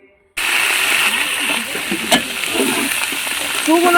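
Khichuri and aloo dum being cooked, heard as a steady, loud frying hiss and bubbling with occasional splatter, close up and continuous after a brief silent start, no talking.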